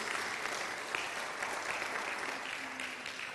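Church congregation applauding, a steady even wash of many hands clapping at moderate distance, continuous and fairly faint with no talk over it.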